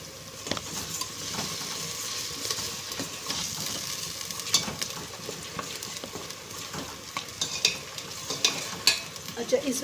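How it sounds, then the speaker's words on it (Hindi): Garlic, onion and ginger paste with fenugreek seeds, curry leaves and spices fries in a pan with a steady sizzle, while scattered stirring scrapes and clinks grow sharper toward the end. "इसको भून लेंगे अच्छे से।"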